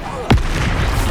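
A loud, sudden blast of the Confringo fire spell in Hogwarts Legacy, a single booming burst followed by a low rumbling tail over steady game noise.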